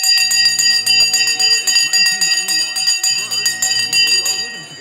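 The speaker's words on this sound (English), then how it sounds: "The bell has now gone." The stock market opening bell rings loudly and continuously, a sustained metallic clang that fades toward the end. A voice talks over it.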